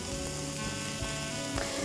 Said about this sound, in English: Sizzling away, smells good already.